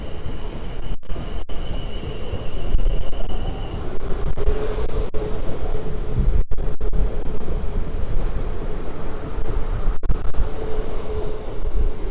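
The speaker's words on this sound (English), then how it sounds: "Well, there goes the Waterloo train." A long Waterloo-bound train of about twelve carriages passes through Basingstoke station on the South Western Main Line, a loud, continuous rumble of wheels with sharp rail clicks and a faint squeal, heard alone.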